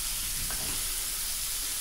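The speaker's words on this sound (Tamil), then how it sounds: "இப்போது நம்ம 1 கப் பொடியாக நறுக்கின தக்காளியையும் சேர்த்து நல்லா வதக்கி" Chopped tomatoes sautéing in a pan for prawn masala give a soft, steady sizzle with a faint stir near the middle, all fairly quiet under a constant hiss.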